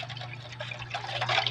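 Water poured from a can into a mixture for mango ice candy, a short close splashing trickle that grows busier toward the end, with no talking over it.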